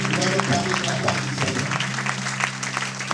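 An audience at a church gathering claps to welcome a reverend, with dense, continuous applause and some voices mixed into the crowd noise.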